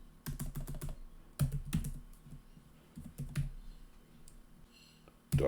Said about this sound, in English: simply typing